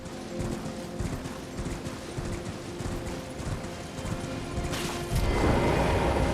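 Horse hooves clop in a steady rhythm during Elden Ring gameplay at a castle facade, mid-loud and continuous under a game backdrop, then a sudden burst of louder noise near the end.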